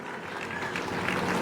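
Dense, continuous applause from a large crowd at a Hindu community mahapanchayat rally welcoming a guest named Neeraj, a brief burst of loud, even clapping.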